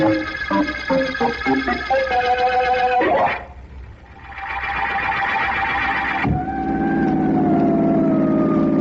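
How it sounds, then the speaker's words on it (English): A car's police siren wails in rising and falling tones, broken by a brief mechanical whoosh, then resumes as a steady droning wail with engine noise underneath. "the use of being district attorney, Vance, if I can't have a siren on my car?"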